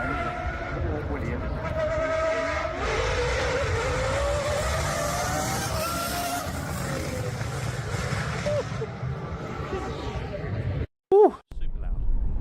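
A V10 Formula One car engine screams at high revs, a loud sustained wail that shifts in pitch, then cuts briefly near the end.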